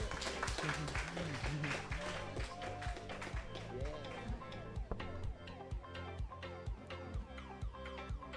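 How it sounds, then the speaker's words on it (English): Audience at an open mic poetry event clapping in a steady, fairly close round of applause with distinct individual claps, continuing through the whole stretch while music plays underneath. "Round of applause, please."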